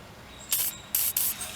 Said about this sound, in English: first thing I'm going to do is just spray a little bit of WD-40 on here